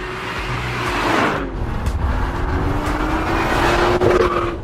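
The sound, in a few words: BMW M2 car engine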